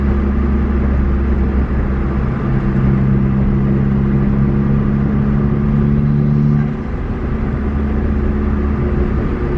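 Modified Nissan Juke NISMO turbo engine idling and running at a steady, fairly loud drone with a low hum, easing slightly near the end, no voices.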